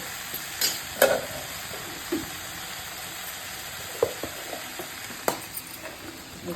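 Leafy greens fry in a pan with salt added, giving a soft, low sizzle punctuated by a few scattered clinks and scrapes as they are stirred.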